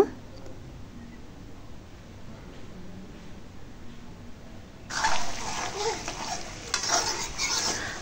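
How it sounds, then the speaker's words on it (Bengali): Curry reheats in a pot on a home kitchen stove, starting as a faint low simmer and turning into a louder, steady sizzle with stirring scrapes over the last few seconds. "একটু তরকারিটা ভালো করে গরম করে নিতেছি"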